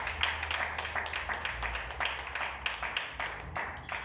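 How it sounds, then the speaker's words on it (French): Church congregation applauding during a Sunday service, a dense run of clapping with scattered cheers kept up steadily and fairly loud throughout. "Acclame encore très fort pour la gloire du Seigneur"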